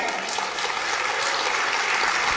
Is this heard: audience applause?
yes